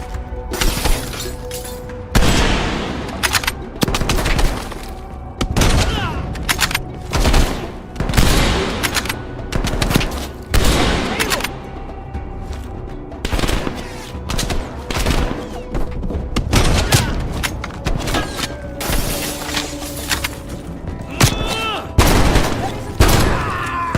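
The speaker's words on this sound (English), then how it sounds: "They're shooting at us!" Heavy gunfire in the video game Call of Duty: Black Ops Cold War, loud rapid bursts and single shots mixed with shattering glass, relentless and close, with brief shouted voices.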